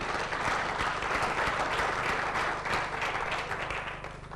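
A crowd at an awards event claps loudly and continuously for a winner, dense applause filling the room throughout.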